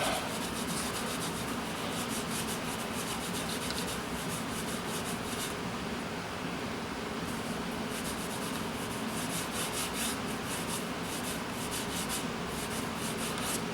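A cloth rubs back and forth over a car's custom wedge badge, wiping it with rubbing alcohol. The close, steady scrubbing goes on without pause, with no voices.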